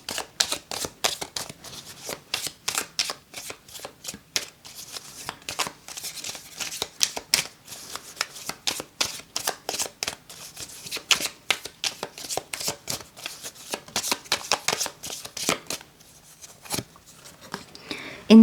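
Tarot cards are shuffled by hand in a long run of crisp, rapid riffling bursts and soft flutters, close and fairly loud, with brief pauses between rounds.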